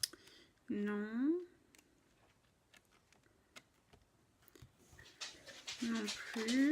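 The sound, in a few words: dog dragging its paws, panting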